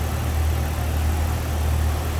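A 1997 Jeep Wrangler Sport engine idles steadily with a low, even rumble and constant hum, close and unbroken, with no voices.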